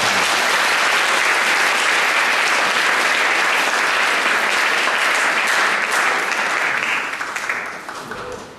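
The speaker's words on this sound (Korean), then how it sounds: "우리 박수로 환영하겠습니다" A church congregation at an anniversary service applauds in a loud, sustained wash of clapping that holds steady for several seconds, then fades and tapers off at the end.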